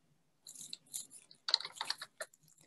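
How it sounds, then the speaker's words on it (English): Bursts of rapid keystrokes on a computer keyboard while entering turtle-graphics code, quiet and close, in two clusters with short pauses between them. "To do this, we type t.goto"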